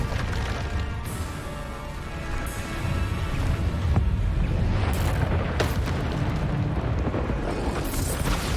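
A Bombarda explosion spell in the Hogwarts Legacy video game sets off dense, rumbling booms with a heavy low-end roar and a few sharp bursts and crackles layered over continuous battle noise, loud and close.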